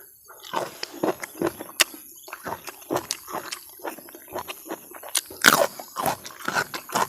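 Someone chews crunchy blanched beef tripe close to the mic, with repeated irregular crunches and wet bites in a quick, uneven rhythm.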